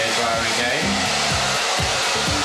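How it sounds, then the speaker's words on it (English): A handheld hairdryer fitted with a concentrator nozzle blows continuously while styling hair into a flicked-out look, its steady whooshing airflow close and loud, the pitch wavering slightly as the dryer moves. "Make sure the nozzle is in line with the hairdryer again."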